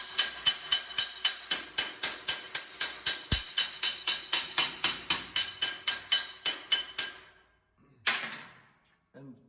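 A body hammer strikes car-door sheet metal in a steady, rapid series of sharp ringing blows, about three per second, then stops; one last clang and a scrape follow.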